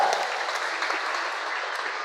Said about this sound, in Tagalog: Isang malakas na palakpak para sa ating bayan.